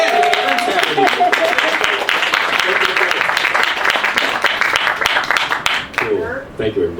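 An audience at an evening talk in a small New York bookstore applauds steadily for several seconds, dense and close, with a few voices calling out near the end.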